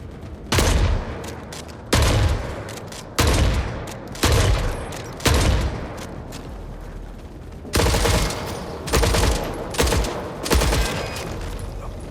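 Heavy gunfire from the video game Forever Winter comes in about nine loud, separate bursts of automatic fire, each a sharp blast followed by a short rattling decay, with brief gaps between volleys.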